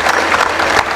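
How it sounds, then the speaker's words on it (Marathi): An audience at a Marathi kirtan clapping, a loud dense burst of applause from a crowd, heard alone. "टाळी वाजवू नका, वाजवण्यासारखा नाही"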